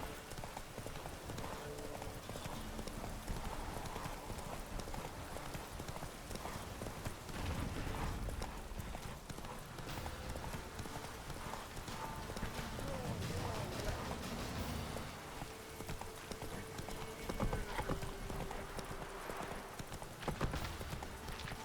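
Rapid hoofbeats of a galloping horse in The Witcher 3: Wild Hunt pound steadily throughout, mixed with game music and ambient noise, with occasional talking over it.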